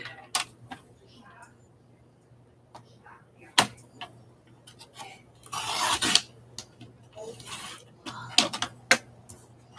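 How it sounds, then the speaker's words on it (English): A paper trimmer slices the edge of a magazine page: scattered sharp clicks and taps, then a brief rasping cut around the middle, followed by more ticks and handling sounds over a faint hum. "Let me see if I can actually get that edge done on the trimmer"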